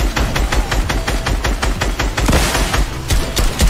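Rapid bursts of video game gunfire crackle in a steady stream, loud and close, with heavier rocket booms mixed in and no talking.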